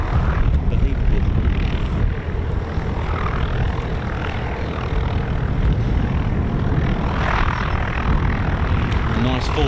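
A military jet on low approach at RAF Waddington during Exercise Cobra Warrior gives a loud, continuous engine roar, fairly close and sustained for the whole span, with talk faintly underneath.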